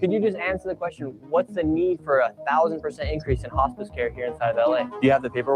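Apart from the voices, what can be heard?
None of the usual background noises is heard.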